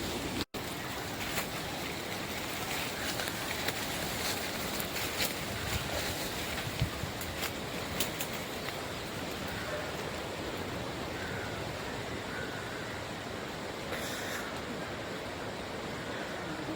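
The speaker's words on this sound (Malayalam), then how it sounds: "വെള്ളം." Water laps and washes steadily during a fishing outing, a constant broad rush with a few faint knocks, no voices, holding even for the full stretch.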